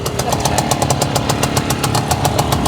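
A Romet T50-1 motorcycle engine runs close by with a loud, rapid, steady two-stroke-like pulsing putter and a buzzing, rattly edge. It sounds even throughout, with no talk over it.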